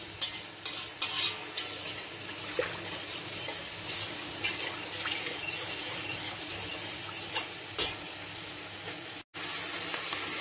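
Beef bourguignon ingredients are stirred in a hot pan. Scraping stirs sound close under a steady sizzle of frying, with a few sharper scrapes and one brief dropout near the end.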